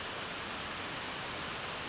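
Light, steady rain falls outdoors at a caretaker's property as a shower passes, a soft, faint, continuous hiss with no voices.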